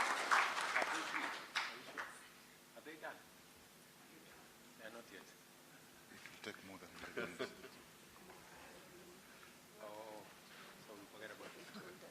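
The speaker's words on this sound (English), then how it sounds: "Let us give a better applause to Dig In Vision Virtual Training Center." Audience applause at a Kenya–Poland economic dialogue event in Nairobi, a burst of clapping at the start that fades out, followed by scattered quieter sounds and a voice speaking.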